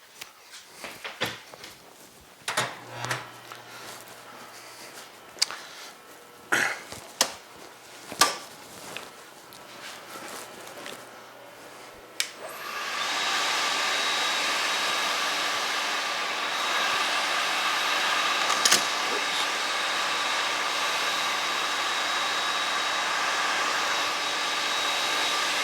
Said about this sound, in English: Oh, got to turn the 3-phase converter on.